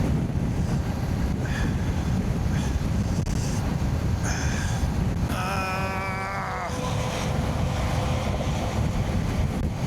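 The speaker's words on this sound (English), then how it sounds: "God, that wind." Strong wind roars and buffets the microphone in a loud, steady broadband rush that never lets up, with a brief tonal whine partway through.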